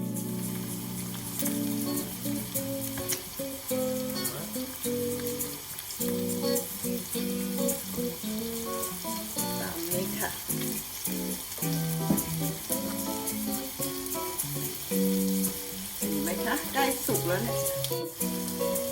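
Squid fries in a hot pan for an Italian seafood dish, a loud, dense and steady sizzle with occasional stirring scrapes and no talk.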